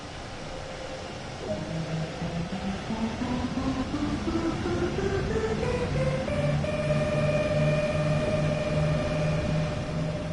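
A BR 182 electric locomotive in the Train Sim World 2 game pulls away, its traction motors whining upward in rising stepped tones over a steady rolling rumble, heard clearly with no talk.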